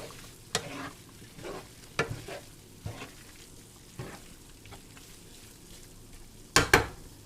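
Turkey crumble sizzles quietly in a frying pan while a utensil stirs it, with a few sharp scrapes and clacks against the pan standing out over a soft, steady fry.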